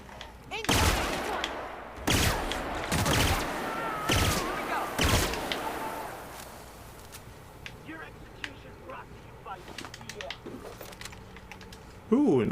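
Assault rifle fire from The Outer Worlds video game comes in several loud, sharp bursts of rapid shots, then fades to quieter clicks and background game sounds, with a voice speaking over parts of it.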